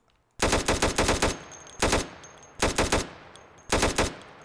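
An R15 rifle fires in Minecraft The Crafting Dead: after a brief silence, four loud, close bursts of rapid automatic shots come in quick succession, separated by short pauses.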